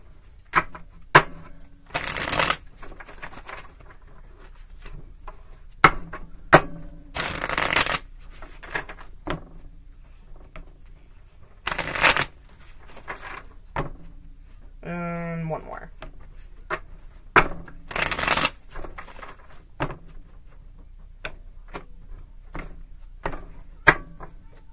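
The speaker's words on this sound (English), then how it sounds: "we're going to get the rest of the cards on the table." Playing cards being shuffled and laid out on a table, with repeated crisp riffle bursts and soft slaps and slides between them, fairly close, alongside quiet handling noise and a brief riffle flutter midway.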